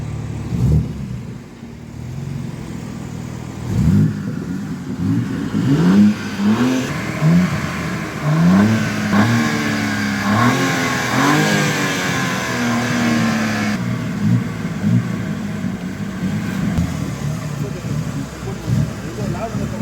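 A BMW M2 coupe with a 453 hp engine and six-speed manual revs repeatedly, its exhaust note rising and falling in close, loud sweeps heard from outside the car, with someone talking between and over the revs.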